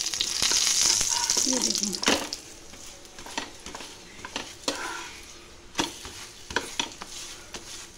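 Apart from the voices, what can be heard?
aloo paratha frying in refined oil in a pan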